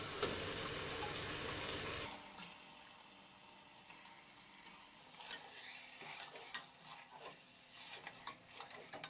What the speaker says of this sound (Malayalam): ചിക്കൻ ഇതിലേക്ക് ഇട്ട് കൊടുക്കാം